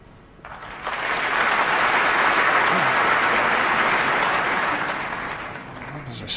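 A big crowd at a snooker final applauds, the clapping swelling quickly and holding as a loud, dense wash for several seconds before starting to fade.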